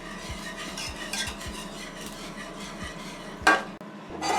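A spoon scrapes and knocks around a pot of cooking pasta in a regular rhythm of close, distinct strokes, with a brief louder clatter near the end and no one talking.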